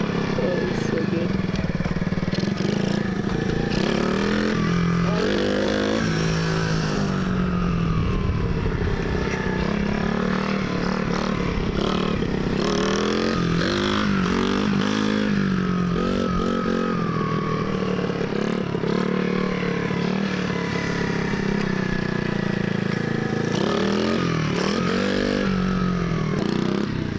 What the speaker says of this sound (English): Bro, that little bike is torquey.